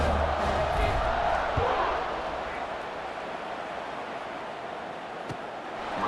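A stadium crowd roars continuously in a College Football 26 video game at a FAMU game, a broad, loud wash of cheering that dips slightly and swells again, with commentary voices mixed in.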